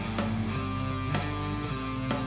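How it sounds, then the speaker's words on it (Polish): Mechanical whirring and rhythmic clicking of an emulated floppy drive on a Commodore 128D, with periodic seek bursts over a steady low hum, recurring about every second. "To, co słyszycie, to już jest emulowana stacja dyskietek."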